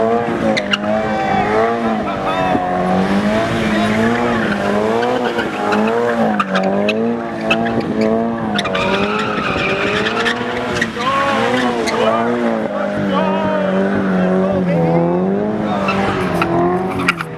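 Loud, sustained tire squeal from a car skidding and doing burnouts at a car meet, a wavering shriek over engine roar running continuously, with voices talking faintly in the background.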